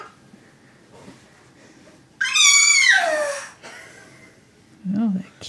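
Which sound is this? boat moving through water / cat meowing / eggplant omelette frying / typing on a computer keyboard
cat meowing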